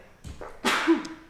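A single sharp sneeze bursts out at a tabletop Dungeons & Dragons game session, preceded by a short intake of breath and fading quickly into room quiet.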